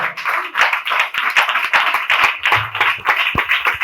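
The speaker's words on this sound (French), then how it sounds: "Acclame très fort pour le Seigneur." A church congregation claps loudly and steadily in praise, with a dense, continuous patter of many hands, some voices and cheers mixed in close by.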